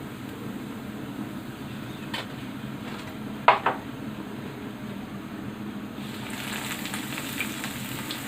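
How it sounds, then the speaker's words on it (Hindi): Bread pieces frying in oil: a soft, steady sizzle under a low background hum, with a couple of faint clinks from utensils, no talk. "इस तरह से सारे पीस फ्राई कर लूँगी।"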